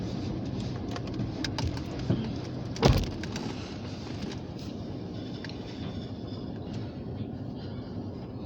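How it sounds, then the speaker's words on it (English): A short grain hopper freight train rolls past at a freight yard in Titus, a steady low rumble of wheels and cars with one brief clank partway through, heard from fairly close. "this grain hopper train I knew is kind of a short one"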